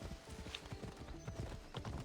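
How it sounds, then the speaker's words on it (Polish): Horse hooves clip-clop in the video game Assassin's Creed Odyssey, a quick, even trot of clear hoofbeats at moderate volume over a soft ambient background. "Ja chcę mojego konia, a nie jakiegoś podrobiańca."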